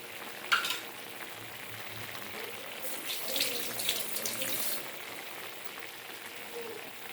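Beefsteak frying in a pan with steady soft sizzling, while a spoon stirs and scrapes through it in a few brief louder bursts midway.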